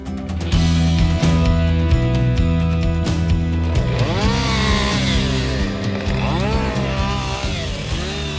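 A chainsaw carving wood roars continuously up close, its pitch rising and falling as it bites into the wood and eases off.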